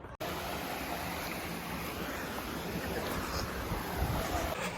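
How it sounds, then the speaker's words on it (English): Rushing water from a mountain waterfall on a Los Angeles hike, a steady broadband roar that fills the whole stretch with no pauses, heard close and fairly loud. "We made it to the waterfall."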